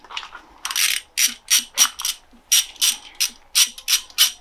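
Ratchet wrench loosening a ground cable bolt on a BMW N20 twin-turbo engine, a run of about a dozen sharp, close clicking bursts in steady rhythm with short pauses.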